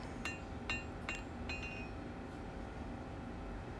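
Four faint, ringing metallic strikes fall in an uneven rhythm as a hammer shapes a small hand-forged blade on an anvil, followed by steady background hiss with no talk.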